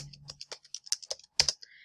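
Quick, light clicking of keys on a computer keyboard, a short irregular burst of close, crisp taps.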